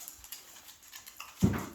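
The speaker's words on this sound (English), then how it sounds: "Ginger, what are you barking at?" Ginger the dog gives one sharp, fairly close bark near the end of an otherwise quiet indoor moment.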